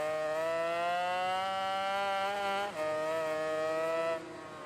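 Vintage 500cc Grand Prix motorcycle engine in the racing game MotoGP 19, holding a high, steady rev with a brief dip as it shifts, then settling lower; loud and alone, with no talk.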